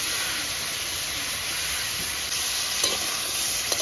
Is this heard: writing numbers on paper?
no